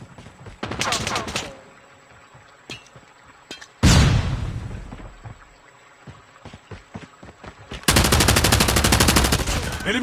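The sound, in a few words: gunfire in a gunfight in video game COD Mobile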